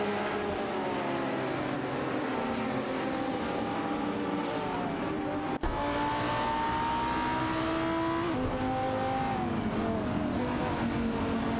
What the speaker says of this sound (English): Speed Ensure's Nissan 350Z GT 300 and Bucksize Row's C Cupra GT are engaging in a fierce battle for the 8th position.